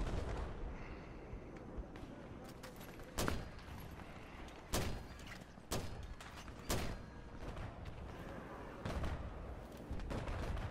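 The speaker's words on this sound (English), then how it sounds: "We're mortaring away, man." Mortar fire in Battlefield 4: about six heavy booming blasts land at irregular intervals over a constant bed of battlefield noise, with a few faint voices in the background.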